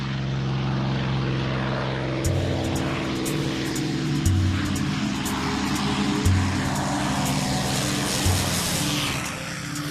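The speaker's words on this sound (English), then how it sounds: "the throaty growl of their airplanes" Loud, throaty propeller engine drone holding steady, with periodic swells as the vintage fighter plane's motor growls close by.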